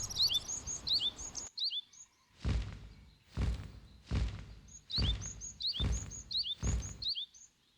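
Great tits call with high, repeated chirps near a nest in a temple stone wall, sounding close and bright at the start and again later, interleaved with several dull low thumps.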